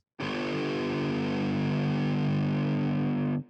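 A steady, heavily distorted buzzing tone on a neurofunk audio layer with a gritty, saturated texture, sustained evenly for about three seconds before cutting off abruptly.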